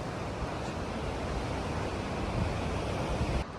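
Ocean waves surge against the rocks at Loch Ard Gorge on the Victorian coast of Australia, a steady roaring surf mixed with wind rush, continuous and loud throughout with no voices.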